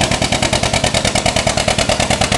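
An antique John Deere tractor with a three-point hitch and power steering idles at close range at an antique tractor pull, its engine giving a loud, steady, rapid chugging pulse throughout.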